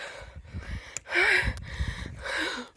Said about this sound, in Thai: หายใจเหนื่อยมาก